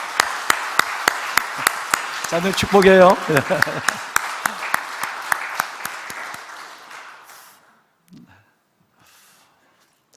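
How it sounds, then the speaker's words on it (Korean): A church congregation applauds together during a Sunday worship service, with a burst of sharp, scattered hand claps under a voice that gradually thin out and fade to near silence. "우리 김재철 장로님 귀한 가정을 위해서 우리 한번 박수로 한번 축하 한번 할까요?"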